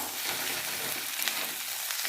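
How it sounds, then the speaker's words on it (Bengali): Ginger and garlic paste with turmeric and chili powder frying in oil over browned onions, giving a steady, close, bright sizzle that hisses on without pause. "আদা রসুনটা ভালো করে ভেজে নিয়েছি"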